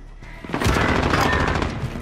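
Burst of automatic gunfire from a Modern Warfare match, a sharp onset followed by sustained loud rattling shots and booms that fill the rest of the moment.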